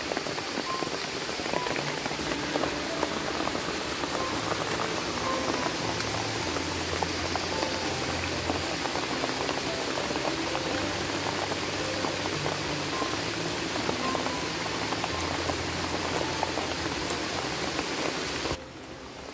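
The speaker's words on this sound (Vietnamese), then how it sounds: "Bên ngoài vẫn đang mưa ầm ầm này." Heavy rain pours down outside a forest shelter, a dense, steady hiss of drops drumming on surfaces that continues throughout before dropping off abruptly at the end.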